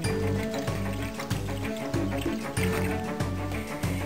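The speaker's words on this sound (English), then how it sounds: "into which I'm just going to add about 2 liters of water" About two liters of water are poured into a cooking bowl in a kitchen, a continuous, loud sloshing pour heard close up.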